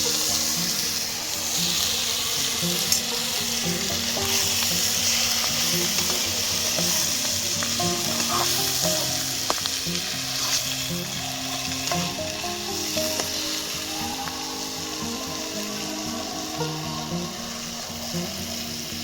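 Fried potatoes go into a pot of crab pulao and are stirred in a loud, continuous sizzle, with scraping and stirring noises repeating throughout and no talking.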